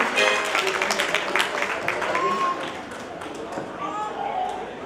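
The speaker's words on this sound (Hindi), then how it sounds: "एक बार जोरदार ताली बजा दें इनके सम्मान में" An audience claps in honour of donors at a gathering, a scattered patter of applause that starts strong and gradually thins, with a voice speaking over it.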